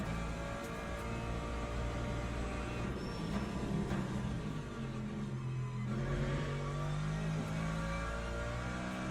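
Racing car engine in Le Mans Ultimate, revving and shifting through gears on track, a loud continuous whine rising and falling in pitch with steady rumble underneath and no talking.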